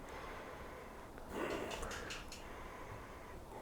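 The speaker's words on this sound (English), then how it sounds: "So let's have a sniff of it." A person sniffs a glass of DB Export Gold 0.0% beer with one short, soft nasal inhale up close in a quiet room.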